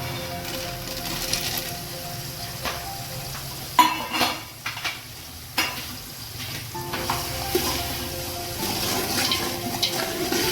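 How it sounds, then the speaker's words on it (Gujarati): Peanuts crackle in hot oil with ginger and chillies for Swaminarayan khichdi, a loud close sizzle broken by several sharp bursts and pan knocks, with no voices. "થોડુંક તેલ છે તો આપણે શિંગદાણા પણ નાખી દઈએ"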